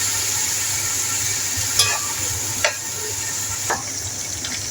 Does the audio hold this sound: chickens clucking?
no